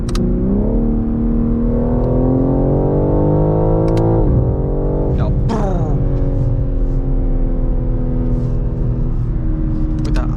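A BMW M3 Touring engine heard from inside the cabin revs up smoothly, drops sharply, then climbs again and settles into a steady drone; no talking.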